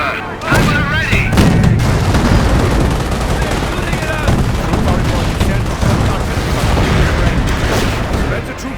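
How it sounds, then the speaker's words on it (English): Gunfire and artillery from the Company of Heroes World War II game during Operation Market Garden, with dense rattling machine-gun bursts and booming impacts filling the whole stretch at close, loud level under shouted orders. "We are taking fire!"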